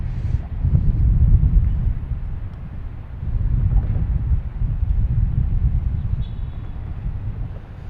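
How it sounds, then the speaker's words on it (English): A gusty crosswind at Boston Logan Airport, gusting to about 25 mph, makes a steady low rumble with buffeting swells. It surges early, eases briefly, then surges again and stays loud throughout, with no voices. "So there's a crosswind here, gusts 25 miles an hour."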